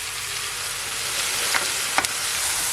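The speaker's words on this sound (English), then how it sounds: "Just gonna leave it to saute for at least 2 minutes." Cow foot for Jamaican curry sizzling as it sautés in a pot, a dense steady hiss up close with a couple of brief pops and clicks near the end, no voices.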